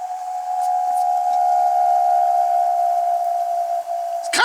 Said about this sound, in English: It's kind of whistling.